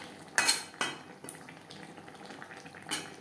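Fried rohu fish and heads stirred into gravy with ridge gourd in a pan, a few sharp spoon scrapes and clinks against metal over a faint simmer, no talking.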